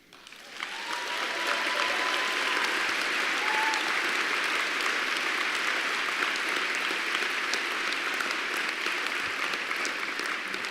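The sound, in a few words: audience clapping at a banquet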